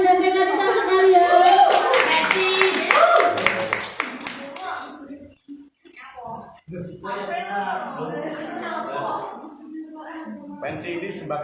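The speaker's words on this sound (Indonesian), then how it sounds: "tepuk tangan yang meriah rekan dan rekan kita sekalian" A crowd at an organization's inauguration event applauds with dense rapid clapping for several seconds, then the clapping fades as voices and talk take over, fairly close and loud.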